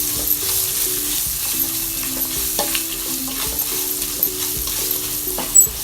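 Bottle gourd pieces tossed with salt in a hot pan, a constant moderate sizzle under intermittent scraping stir strokes and a few light knocks of the spoon, close by with no talking.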